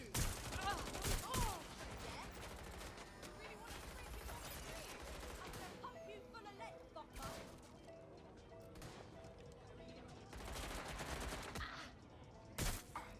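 Sustained, dense gunfire and heavy shooting from the video game Watch Dogs, loud and continuous with sharp cracks, mixed with occasional voices.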